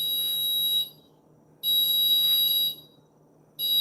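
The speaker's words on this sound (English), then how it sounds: "as soon as it stopped beeping, it beeps a couple times, and then zaps her" Loud, high-pitched electronic beeps from a pet deterrent mat sound in two long pulses, each about a second, separated by brief silence, with a third starting at the end.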